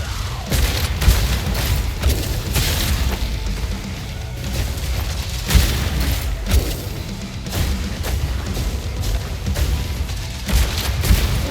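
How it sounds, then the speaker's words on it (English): Grenades from a shield champion in the game Metal: Hellsinger burst on impact, a dense run of booming blasts and thuds repeating throughout amid heavy metal music and game noise. "they also have a little explosion on impact that you cannot avoid by dashing through"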